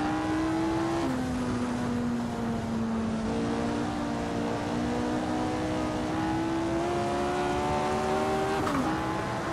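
A vintage race car laps the historic Monza circuit in Assetto Corsa, its engine droning loud and steady with gear changes, a constant close in-car roar throughout.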